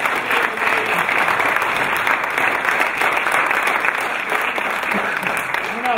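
Loud, continuous applause for the president at a motorcycle club's 50th anniversary celebration, a dense, even patter of many hands clapping close by for several seconds.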